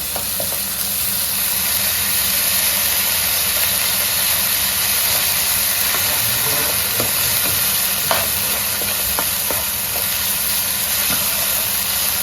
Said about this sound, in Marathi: लसूण पेस्ट हे व्यवस्थित परतून घेऊया